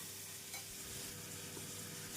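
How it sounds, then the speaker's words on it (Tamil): Chopped onion and garlic sautéing in a pan for Tamil tomato kuzhambu, a continuous close sizzle and crackle of frying with faint scraping from stirring, no talking. "வெங்காயம், பூண்டை நன்றாக வதக்கிய பின் 1 ஸ்பூன் இஞ்சி பூண்டு விழுது சேர்த்து விடலாம்"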